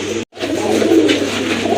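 Pigeons cooing at a sale of large, accurately marked birds, a close, continuous throaty rumbling coo with a brief drop to silence near the start.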